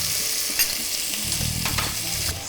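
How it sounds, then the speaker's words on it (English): Chopped onion with cumin seeds and salt sizzling in a pan for a vegetarian thali, a steady close hiss with a spoon stirring and scraping through it, no voices. "Stir the onions through."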